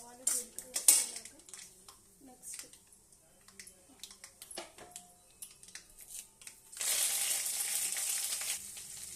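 Chana dal, urad dal, coriander seeds, mustard and cumin frying in hot oil for an aloo tomato curry: scattered clinks of a pan and utensils first, then a steady, hissing sizzle over the last few seconds.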